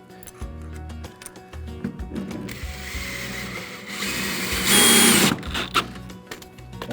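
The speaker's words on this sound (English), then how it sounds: "Once all the bolts are tightened, everything's ready to go." A ratchet tightens bolts on a raised garden box, a steady mechanical clicking that grows louder and denser toward the end, close by with no talk.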